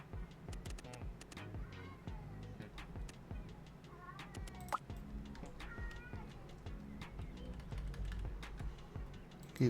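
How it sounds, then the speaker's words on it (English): A cat in a video game cries in short, faint mewing calls scattered over soft computer keyboard typing and quiet background noise, with a person talking at times. "I can hear a cat crying."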